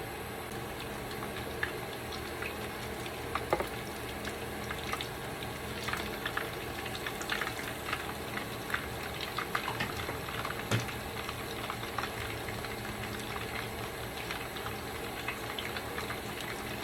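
Tuna lumpia shanghai frying in hot oil, a steady dense crackle and sizzle with fine ticking pops throughout, close and continuous with no talking.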